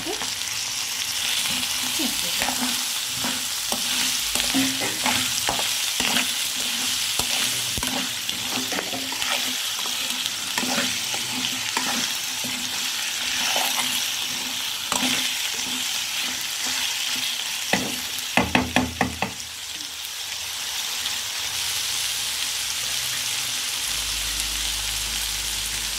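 Masala frying in oil in a pan after onions and potato, with steady loud sizzling and repeated stirring scrapes throughout, ending with a few sharper clinks and a quieter stretch; no one speaks.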